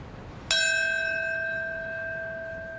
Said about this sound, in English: Then a bell, marking the minute the first plane struck the World Trade Center.